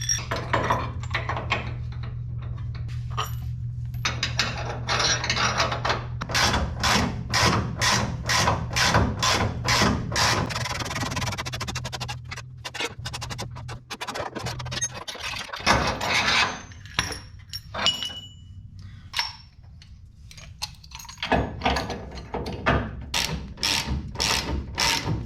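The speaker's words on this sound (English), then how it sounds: "I froze this bushing and I made my own little press thing here" Frozen aluminum suspension bushing pressed in with a homemade press on an E82 drift build, producing rapid repeated ratcheting clicks and metallic creaks, loud and close, continuing in bursts with brief pauses.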